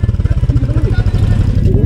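A motorcycle engine runs with a low, rhythmic throb as the bike is pushed through a landslide near Manali, close and steady under excited voices.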